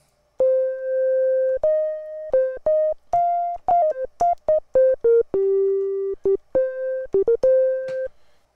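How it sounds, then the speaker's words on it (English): A System 55 modular synthesizer patch with an added organ voice plays a clean melodic line of sustained and staccato tones, steady and alone with no talking. "And now we'll add in the organ."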